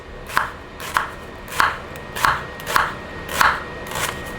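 Onions are sliced into half rings with a knife on a cutting board, seven evenly spaced crisp chops, close and clear with no talk.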